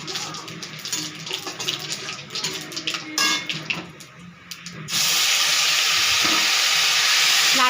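Cumin seeds, dried chilies and bay leaf drop into hot oil and sizzle, a dense steady hiss that takes over halfway after scattered clinks and clatter in the kitchen.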